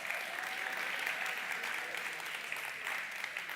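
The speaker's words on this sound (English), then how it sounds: "let's just give them all another round of applause." Steady applause from a news conference audience, broad and even throughout, a dense wash of clapping with no speech over it.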